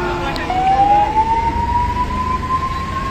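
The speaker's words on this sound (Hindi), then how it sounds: "दोस्तों जाम में देखो एम्बुलेंस भी फंसी हुई है" An ambulance stuck in a traffic jam by a tunnel sounds its siren, a steady rising wail that holds up close and loud over traffic noise.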